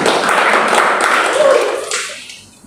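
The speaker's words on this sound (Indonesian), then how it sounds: "Kasih tepuk tangan buat Tuhan." A congregation applauds during a church worship service in Jakarta. The dense clapping holds steady for about two seconds, then quickly thins and fades to quiet.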